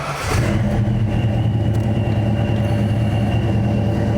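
A Retro Fox car being driven, heard as a steady, close engine drone with a low rumbling hum that holds even throughout.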